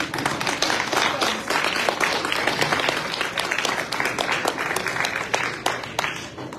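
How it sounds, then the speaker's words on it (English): Sustained applause from an audience at a county officials' public meeting on a controversial sex offender housing facility, dense steady clapping throughout with a few sharper claps standing out. "everyone who appreciates them should stand and give them a big round of applause"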